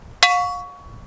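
A single sharp metallic strike on a yellow metal pipe at a megalith dolmen rings out with a bright, bell-like clang that decays over about half a second, alone and near.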